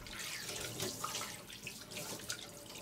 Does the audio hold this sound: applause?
no